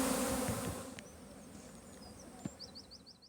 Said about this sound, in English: I could see they were definitely going into the hive.